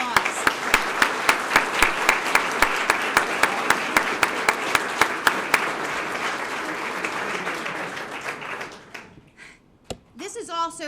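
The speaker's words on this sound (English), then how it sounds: "Let's give them all a round of applause." An audience of family and friends at a Sarasota Police Department promotional ceremony claps loudly in a steady rhythm with regular accented beats. The applause winds down after about eight seconds into quieter room noise and scattered sounds.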